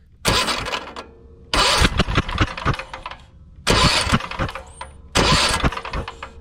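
The starter on a Craftsman T240 riding mower engine is bumped four times in short bursts, each a loud, rapid cranking chug lasting about a second, with brief quiet gaps between them.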